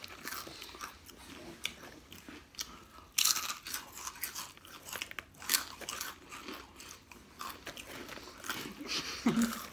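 Close, crisp crunching as someone bites and chews spicy corn chips, Hot Cheetos and Takis, irregular snaps and grinding for several seconds, with faint voices briefly in the background.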